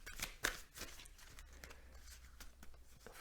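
Tarot cards being cleared and shuffled by hand: a quick series of soft papery flicks and riffles near the microphone, with a brief brushing texture in between, heard alone at low volume.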